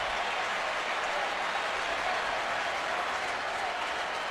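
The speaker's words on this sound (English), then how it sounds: "And listen to this crowd." A packed baseball stadium crowd at a 2007 Indians ALDS playoff game roars and applauds in a dense, unbroken wall of noise that holds steady throughout.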